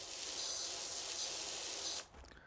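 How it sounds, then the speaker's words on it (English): A pressure washer sprays a dense, loud hiss against metal and carved wood in PowerWash Simulator, holding steady for about two seconds before cutting off abruptly. "Pretty sure us spraying all this metal cannot be good for it"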